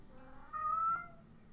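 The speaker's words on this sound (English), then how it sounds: "my cat is meowing" A pet cat lets out a single drawn-out meow, rising and falling in pitch, fairly close and clear against a quiet room.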